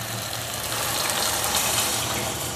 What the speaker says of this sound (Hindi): और 3 कप में पानी डालूंगी